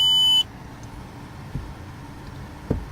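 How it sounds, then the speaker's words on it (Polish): A car's reverse-light warning sounds as a single short, high-pitched electronic beep inside the cabin, followed by a faint steady engine idle and a couple of soft knocks. "Charakterystyczny dźwięk w tym samochodzie e, informuje mnie o tym, że światło cofania zostało włączone."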